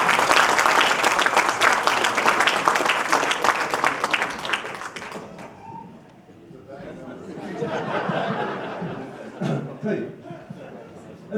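A large audience applauds loudly and steadily at a lecture, then the clapping thins out into scattered claps and crowd murmur.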